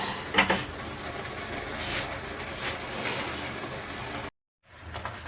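Chicken spaghetti being stirred in a pan, soft continuous scraping and sizzling with a few louder knocks, then a brief silent gap before the stirring resumes.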